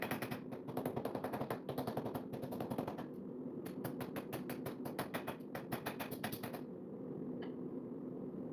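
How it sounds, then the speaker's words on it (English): Hammer blows striking a forged steel knife blade near the bevel, a fast run of sharp metallic taps with brief pauses, ending before a quieter tail. "start hammering about where the bevel is going to go to see if I can get it to straighten itself back out"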